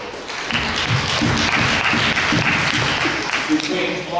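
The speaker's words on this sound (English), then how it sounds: "Give them a round of applause." A school audience gives a round of applause during a talk on youth addiction, a steady wash of clapping at fairly loud level, with some voices mixed in.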